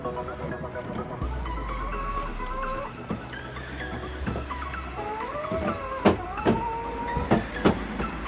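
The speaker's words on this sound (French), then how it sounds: "je viens de mettre mes poules il y a à peu près 5 minutes dans la serre" Pekin bantam hens cluck and chatter in a greenhouse in short, overlapping calls at close range, over a steady low hum, with a few sharp knocks near the end.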